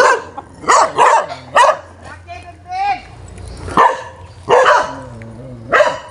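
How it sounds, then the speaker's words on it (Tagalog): Dogs barking outdoors at a fishing spot, a handful of loud close barks in uneven bursts with a brief whimpering yip between, and a voice briefly heard. "Daming aso."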